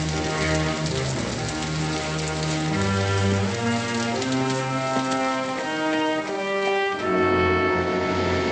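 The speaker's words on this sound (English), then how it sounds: "I sure don't like the idea of him driving back in the dark and in this rain" Steady rain pours down at night on an eighteenth-century frontier homestead, a continuous close hiss mixed with a loud orchestral music score that swells throughout.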